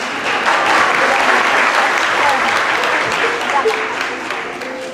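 An audience at a children's music concert claps after a young girl's performance: steady, sustained applause from a sizable crowd in a hall, fading slightly at the end.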